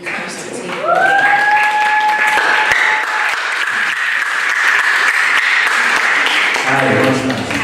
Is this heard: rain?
no